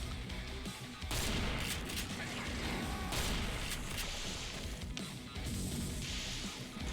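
Shotgun fire in the video game Serious Sam Fusion, dense overlapping booming blasts and crashes that keep going throughout, loud and continuous with several sharp bursts standing out.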